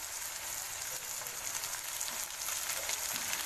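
Ginger garlic paste with chopped tomato frying in a pan for ghugni, a dense, steady hiss of sizzling oil held close and even throughout.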